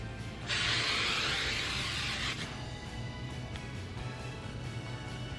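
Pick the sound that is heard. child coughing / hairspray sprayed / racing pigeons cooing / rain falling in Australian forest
hairspray sprayed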